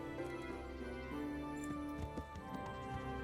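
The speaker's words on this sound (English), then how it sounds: "Here's my glorious steed." Horse hooves clopping in the video game Kingdom Come: Deliverance, a few quiet, irregular clops sitting under a dense, tonal background of game music and ambience.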